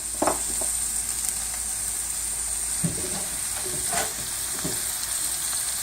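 Chopped Maui sweet onions frying with oyster mushrooms in a pan give a steady close sizzle and hiss, with a few clattering stirs and scrapes throughout and no talking.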